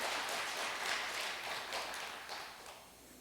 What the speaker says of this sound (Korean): 한 번 더 박수 한번 더 쳐주실래요?